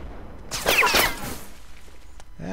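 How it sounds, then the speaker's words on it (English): A cannon fires a canister round in the Mount and Blade Napoleonic Wars video game: a loud, close blast with a rattling crackle that decays over about a second. A voice starts briefly at the end. "that was a canister round there from a cannon"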